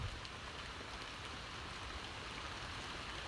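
Rain falls steadily in a continuous soft hiss, even and unbroken, with no other sounds standing out.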